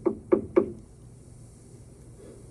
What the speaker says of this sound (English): knocked on Mary's door